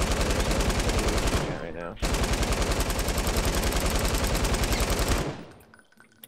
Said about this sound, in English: That machine gun sounds awesome.